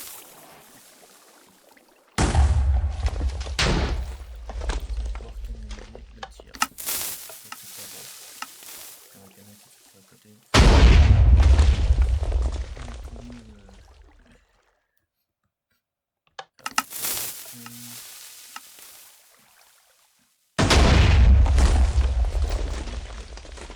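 Minecraft TNT cannon firing, with three or four loud booming blasts that each burst in suddenly and decay into crackling rumble, separated by quieter gaps of faint clicking and block-placing noises.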